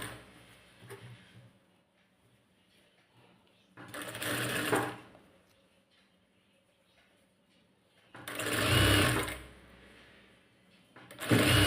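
A sewing machine stitches a blouse seam where a folded hook piece is being sewn down. It runs in three separate whirring bursts of a second or more each, with quiet handling noise between them.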